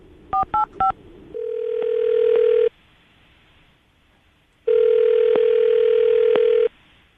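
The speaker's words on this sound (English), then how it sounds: "I'm going to call her right now, see if we can get her on the phone." A telephone call is placed: three quick keypad tones sound, then a loud, steady ringback tone buzzes twice with a pause between, and no one speaks.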